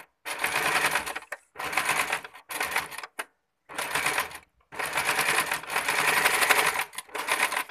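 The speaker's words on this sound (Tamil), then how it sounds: "கடைசியில் வரும்போது மட்டும் நம்மளுக்கு டபுள் ஸ்டிச் போடணும்" A sewing machine double-stitches the hem of a lungi in a run of loud, rapid mechanical bursts, with short pauses between them and one long continuous stretch near the end.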